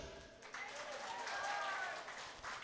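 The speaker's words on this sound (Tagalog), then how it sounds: "pwede po bang sumigaw ng praise the Lord, sabay palakpak?" A church congregation claps and shouts in praise, a faint, spread-out burst of applause mixed with voices.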